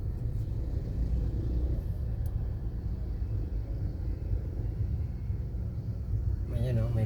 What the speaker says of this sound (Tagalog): Traffic nga talaga.